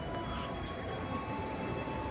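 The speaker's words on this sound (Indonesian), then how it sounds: "Kereta api Gaya Baru Malam Selatan atau kita singkat GBMS. Itu lampunya sudah terlihat." Gaya Baru Malam Selatan passenger train arriving at Klaten station, a steady broad rumble of rolling wheels and carriages that holds level throughout, with a faint high squeal above it and no voices.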